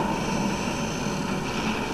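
Continuous droning engine hum of a helicopter in Duke Nukem Forever, steady and fairly loud, no voices.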